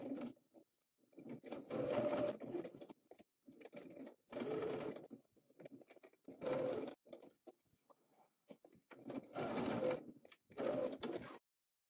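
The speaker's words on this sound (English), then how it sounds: "Edge stitch and top stitch them as we did with the pockets." Sewing machine edge stitching and top stitching fabric pocket flaps, several close runs of rapid whirring stitches separated by short pauses, moderately loud with no voices.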